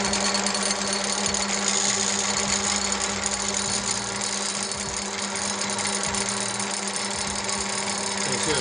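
A Falex friction brake test machine runs steadily under light load at high pressure, giving a continuous, loud mechanical whir and hum with a rhythmic rattle throughout, no talk over it.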